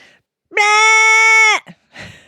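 A person's voice imitates a screaming sheep: one loud, sustained, strained bleat lasting about a second, close to the microphone, followed by a few short breathy sounds.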